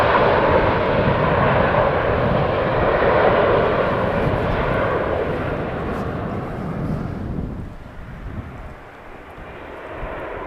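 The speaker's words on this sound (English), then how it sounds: "As a 737 from KLM has just landed." A KLM Boeing 737 landing on windy runway 18R at Amsterdam Schiphol gives a loud, sustained jet engine roar that gradually fades and thins toward the end, with no voices over it.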